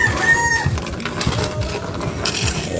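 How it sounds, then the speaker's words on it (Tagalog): A rooster crows loudly and up close, the call held steady over a busy, noisy background of rustling and clatter. "Manok."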